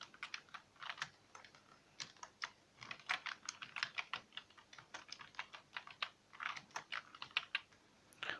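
Computer keyboard typed on in quick irregular bursts of crisp key clicks, close and clear, with brief pauses between words and no talking.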